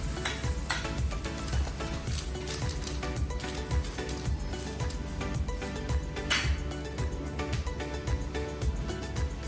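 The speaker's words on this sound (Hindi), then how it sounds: "again you have to put the roti on the तवा, फिर ऐसे बटर लगा के उसको अच्छे से सेकना है" A roti roasts with butter on a hot tawa, giving a dense, continuous sizzle up close, broken by occasional scraping and metallic clinks of a spatula.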